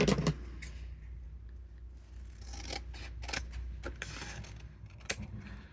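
Scissors snip and trim envelope paper with ink and stencil work, several sharp cuts and rasping slides spread over a few seconds, close and fairly quiet with no talking.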